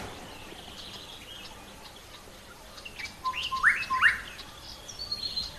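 A young bird sings its distinctive call outdoors on a safari, with a few clear chirping phrases rising midway over a quiet background of faint insects.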